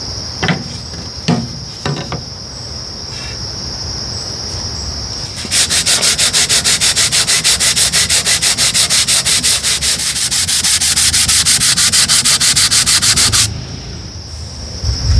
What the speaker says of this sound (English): we can do a final sanding on our deck boards